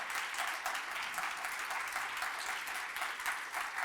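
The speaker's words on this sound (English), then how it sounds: "a big round of applause for our speakers" Audience applause for speakers at a convention bureau afternoon event, an even, continuous patter of many hands, fairly faint and without voices.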